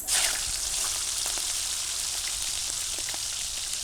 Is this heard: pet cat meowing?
no